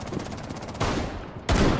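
Gunfire in the shooter Rainbow Six Siege, a rapid rattling burst followed by two sharp, loud clusters of shots close to the player.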